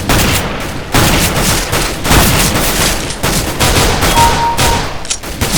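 Rapid bursts of gunfire in CS:GO, repeated volleys close and loud, with brief gaps between strings of shots.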